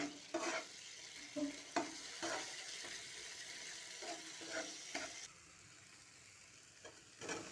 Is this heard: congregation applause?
no